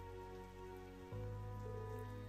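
Rain falls steadily in the video game Trails of Cold Steel 3, a broad patter running under sustained musical tones that shift about halfway through, with no talking.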